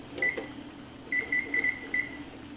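A kitchen timer set for 15 minutes while cooking cauliflower soup sounds a short beep, then a quick run of several bright electronic beeps, clear over quiet room noise.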